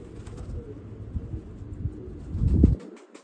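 A pigeon coos a few times at close range outdoors, with a louder burst of low cooing or wing noise near the end before it cuts off.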